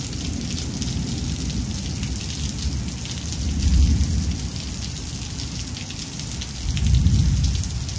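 Steady rain pours down in a dense, even hiss, while two deep rolls of thunder swell up and die away, one at the middle and one near the end.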